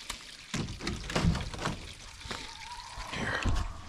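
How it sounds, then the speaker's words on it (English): Water is poured out of a container at a goose pond during cleaning, a series of uneven splashing gushes and trickles at close range, rising and falling in bursts with a brief tonal squeak near the end. "Pour this out."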